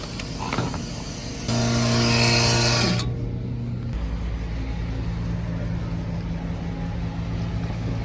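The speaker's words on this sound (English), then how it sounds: "Then we got the blower here. That's the pipe system that blows up into the bin." A farm grain blower pushes dry corn through a pipe system up into a storage bin, a steady mechanical drone and rushing air with a louder hissing surge in the middle that drops back to a constant hum.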